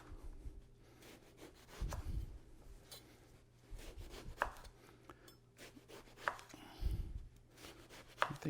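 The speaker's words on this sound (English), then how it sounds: "we start cutting. This is eggplant." A knife chops through eggplant, slicing it into rounds on a board, with irregular thuds and scrapes of blade on wood, moderately close and unaccompanied by voices.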